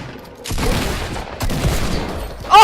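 Heavy shotgun blasts boom out loud and close in a squad battle video game, two big dense bursts about a second apart, followed by a sharp short crack at the end.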